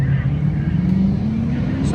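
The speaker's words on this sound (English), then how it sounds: "Cars are showing up." Cars arriving at a car show, a vehicle engine droning and passing at moderate distance for a couple of seconds amid a busy outdoor scene.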